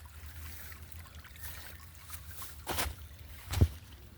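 A creek running fast like small rapids gives a steady low trickling rush, broken by a couple of brief louder splashes toward the end.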